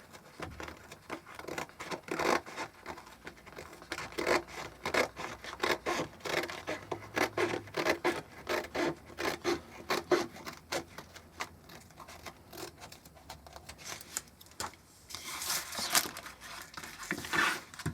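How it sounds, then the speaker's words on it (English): A canvas picture is trimmed down to size, with close, irregular snipping, rubbing and crinkling of the material in short bursts that continue throughout at a moderate level. "I'm going to just trim it down because it is a bit big"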